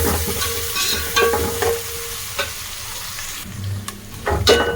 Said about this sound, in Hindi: अपनी कटी हुई प्याज और हरी मिर्च डाल दी। तो अच्छे से मिक्स कर लेंगे